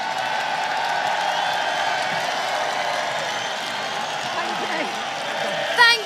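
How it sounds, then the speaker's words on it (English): Protest crowd applauding and cheering together, a steady dense roar of clapping and voices sustained throughout with a brief louder whoop near the end. "let's give a massive applause to all of us"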